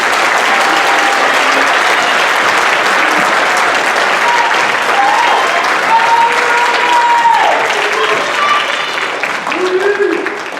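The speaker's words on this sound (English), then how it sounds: "One more round of applause for our 7th and 8th grade band." A school audience gives sustained, dense applause for a 7th and 8th grade band at a fall band concert, with many hands clapping continuously at full level and a faint voice coming through near the end.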